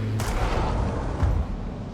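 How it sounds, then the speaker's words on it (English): Two muffled booms from gunfire in the video game Hunt: Showdown, one early and one just past the middle, over a dense, rumbling background. "I hear gunshots, watch out."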